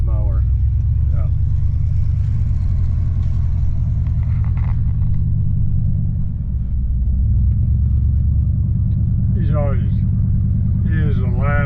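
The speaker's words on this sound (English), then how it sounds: "Looks like he's mowing with it right now." Ford 8N or 9N tractor mowing, with tires weighted on the mower: a steady loud low engine rumble running throughout, with people talking over it.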